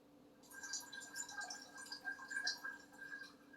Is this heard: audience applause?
no